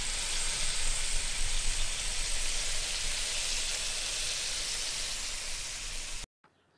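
Beef roulades sear in a Petromax ft6 cast-iron Dutch oven, giving a steady, loud broadband sizzle that holds evenly for about six seconds before cutting out abruptly.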